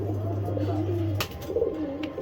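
Black Sapchila pigeons give low cooing calls in a loft, a steady hum underneath for the first half, then a sharp knock followed by more wavering coos.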